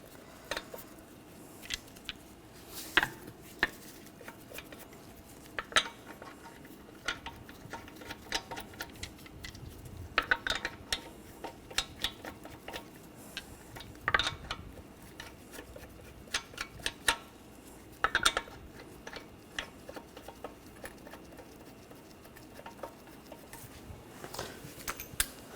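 Lug nuts thread onto a wheel hub on a 2013-2019 Ford Escape during a front brake job, giving scattered light metallic clicks and taps that repeat irregularly over a quiet background with no talking.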